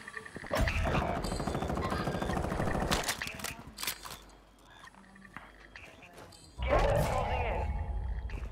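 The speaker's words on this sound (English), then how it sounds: "Getting shot from the hill." Gunfire in Call of Duty Warzone crackles in loud bursts near the start and end, with a quieter stretch between and voices talking over the game sounds.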